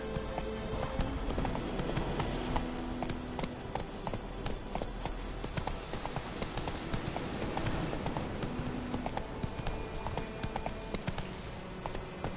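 A horse gallops in The Witcher 3 with rapid, steady hoofbeats on a continuous bed of game ambience and music, loud and close throughout.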